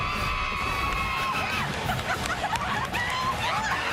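A spirited crowd of about 15,000 cheers at a college football game between Iowa State and Oklahoma in Ames, Iowa, giving a sustained distant roar with scattered whoops and shouts throughout.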